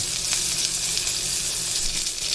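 A beef sirloin cap sears in a pan over medium heat, giving a loud, steady, continuous sizzle and spatter that stays even throughout, with no voices.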